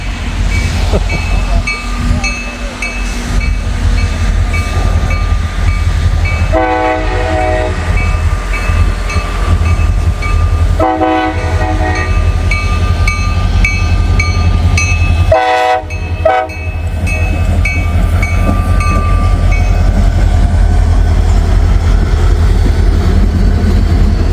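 A long intermodal freight train rumbles steadily past at close range, with a loud horn sounding in repeated blasts, wheel and rail noise throughout, and a transfer caboose at the rear.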